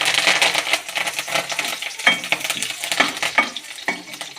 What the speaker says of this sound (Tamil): கருவேப்பிலை இதுமாரி எண்ணெயில் நல்லா பொரியணும்